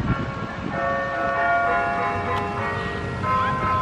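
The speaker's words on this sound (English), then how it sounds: "Is that a special happy birthday bell?" A bell rings with steady, sustained tones during an outdoor birthday party, with a faint murmur of voices underneath.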